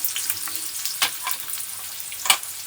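Banana slices for homemade chips dropping into hot oil, a lively bubbling sizzle with several crisp bursts as pieces hit the oil, close and steady with no voices.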